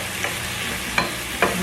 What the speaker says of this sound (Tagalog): Siyempre, haluin natin.